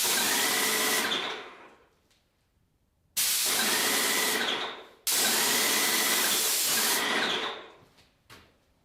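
An airless paint sprayer hisses loudly onto a wall test patch in three long continuous bursts of a few seconds each, separated by short quiet gaps, with a small spurt after the last one.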